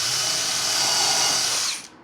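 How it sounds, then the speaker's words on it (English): A power drill bores a pilot hole for screws on a kitchen bench cross brace, a loud close whine that holds steady for nearly two seconds and then winds down, with no talking. "just drill a pilot hole"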